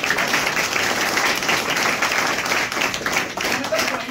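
Audience at an institute seminar in Balrampur applauding the staff, loud and close, a thick continuous roar of clapping that stays level for the whole stretch, with faint crowd voices beneath.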